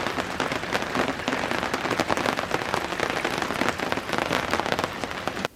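Rain falls steadily at a campground, a dense, even patter of drops on surfaces that stays close and constant throughout, with no voices.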